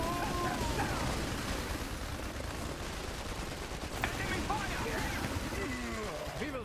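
Continuous gunfire and machine-gun bursts in an Iron Harvest 1920+ battle, a dense steady clatter of shots layered with explosions and speech-like voices throughout.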